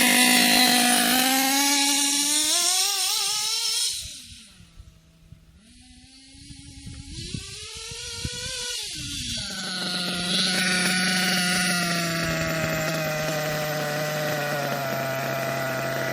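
A nitro RC engine screams past at wide open throttle, a loud high-pitched buzzing whine that dips and swells in pitch as it passes and recedes, then holds a steady high drone.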